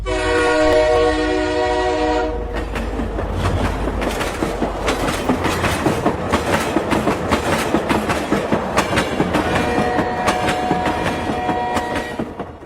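A train horn sounds loudly and steadily for a couple of seconds, then the rolling clatter of rail cars passing close by continues, with whistle-like tones near the end.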